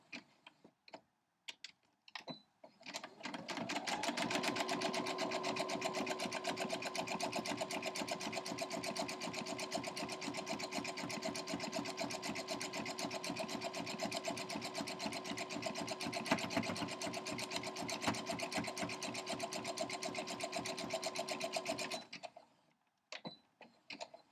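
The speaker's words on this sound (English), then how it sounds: "I'm just going to do a zigzag stitch just to lock this one in" A sewing machine runs a zigzag stitch across a quilt block, a close, steady rapid clatter lasting about twenty seconds, with brief ticks and handling noises before it starts and after it stops.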